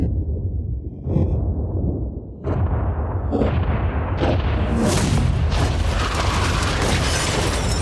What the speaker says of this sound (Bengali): 3 2 1 উড়িয়ে দাও।